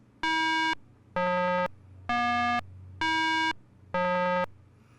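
Five evenly spaced electronic beeps from the Nancy Drew: The Deadly Device video game, buzzy harmonic tones that alternate slightly in pitch, each about half a second long, clear over a faint hum.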